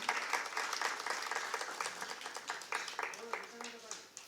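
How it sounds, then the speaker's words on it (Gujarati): Applause from an audience gathered for a Ramayan katha, a sustained patter of many hands clapping that fades slightly toward the end, with a voice speaking briefly underneath. "પ્રેમથી તાળી તો વગાડો ભલા માણસ"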